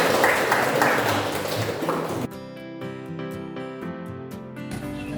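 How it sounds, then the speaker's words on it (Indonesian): A classroom group applauds, a thick burst of clapping for about two seconds that cuts off abruptly, followed by quieter ringing tones and light tapping. "tepuk tangan untuk kita semua"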